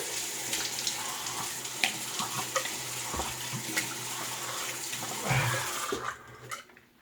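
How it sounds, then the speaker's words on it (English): Cool tap water runs steadily into a sink for a rinse, a continuous hissing splash with small clatters, cut off near the end. "let's cool water rinse"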